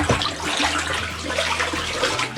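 Homemade grape wine with added water and sugar is stirred in a large container, producing a close, continuous sloshing and swirling of liquid with no voices.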